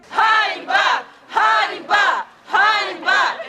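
Crowd of about a hundred protesters picketing a district hospital, chanting a short slogan in rhythmic bursts, three paired shouts in regular cadence, loud and unified with brief pauses between.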